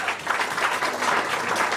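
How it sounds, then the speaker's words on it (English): Audience applause at a stroke awareness presentation, a short burst of dense, even clapping from a crowd, moderately loud and without speech. "Please give him a round of applause"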